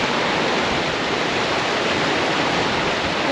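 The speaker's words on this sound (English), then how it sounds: "I think there's a waterfall from here." A river waterfall on a road trip around Mount Kenya in northern Kenya roars as a steady, dense rush of falling water, loud and unchanging throughout, with no talking.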